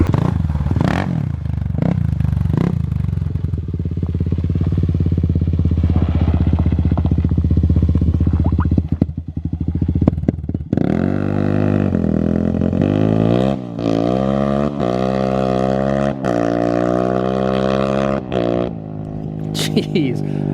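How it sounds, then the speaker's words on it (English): A loud Kawasaki KLX351 dirt bike, heard from outside at a drag race, idles with a heavy roar, then revs repeatedly so its engine note climbs and falls in surging waves, close and dominant throughout. "I'll be able to hear my bike from the outside."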